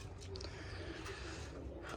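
Pigeons coo softly in a loft, giving low, muffled throaty calls that sit faint and close over a dull background rumble.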